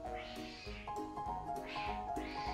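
Cat meowing in the video game SOS OPS, three drawn-out meows repeating at a steady pace over a constant low game background, with no talking.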